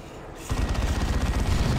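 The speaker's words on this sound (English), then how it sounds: "There's a heavy bolter." A heavy bolter in the real-time strategy game Dawn of War 2 fires a rapid, dense stream of booming shots that kicks in abruptly and keeps going, loud and close with no talking.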